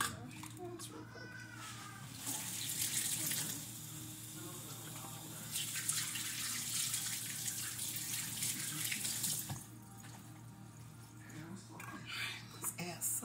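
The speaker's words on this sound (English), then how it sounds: "I'm going to wash my hands real quick." Kitchen faucet water runs and splashes in bursts as hands are rinsed while preparing a brown sugar and pineapple ham, the flow rising and falling over a low background hum.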